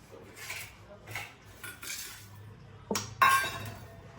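A spoon clinks and scrapes against a steel bowl while tomato, lemon, garlic chutney, peanuts and spice masala are mixed as stuffing for brinjal, several close knocks with a sharper clink near the end.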